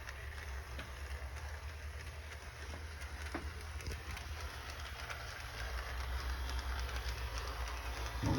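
A Bachmann H0 model train runs along its track with a faint, steady low rumble and soft clicking, quiet and continuous, growing slightly louder toward the end.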